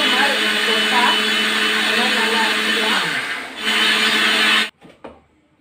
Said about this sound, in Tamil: வாங்க இதை நைஸாக அரைச்சிக்கலாம்.